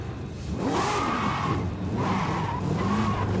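A car drifts with the e-brake in Forza Horizon 5, played on a steering wheel: loud, sustained tire squeal rises and falls in two long sweeps over a revving engine, close and continuous.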